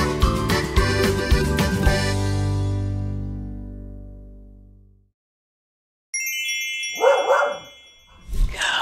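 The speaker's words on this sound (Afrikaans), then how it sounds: "Mooi, 'n hond blaf." A dog barks twice at close range, sharp separate yaps in the second half after a fading musical tone and a short silence.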